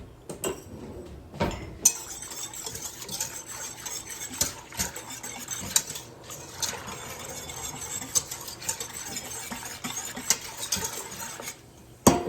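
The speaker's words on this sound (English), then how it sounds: "I'm giving it a good stir, that way everything kind of mixes together better." A rice vinegar and dried ground ginger glaze stirred in a pot or bowl for canned pork, with repeated utensil scrapes and light clinks against the container, close and steady, alone with no talk.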